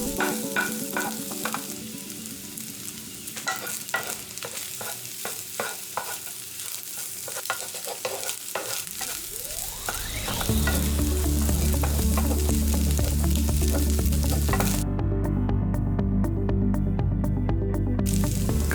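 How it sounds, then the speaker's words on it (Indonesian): Egg, celery and carrot stirred and frying in a pan for vegetarian home-style fried rice, with steady sizzling, and a louder, denser sizzle partway through as more goes into the pan. "Dan lanjutkan dengan mengaduk telur, seledri, dan wortel hingga bercampur rata."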